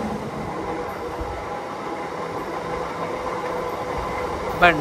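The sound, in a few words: another train passing on the adjacent track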